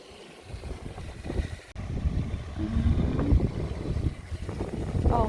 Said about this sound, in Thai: เสียงน้ำเด้อค่ะเด้อ